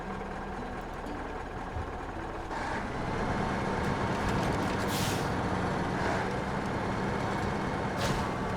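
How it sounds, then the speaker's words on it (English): A heavy truck idles with a steady engine drone in SnowRunner, then a loud air-brake hiss rises as its trailer detaches, followed by several more sharp pneumatic hisses over the rumbling engine. "Let's detach the trailer."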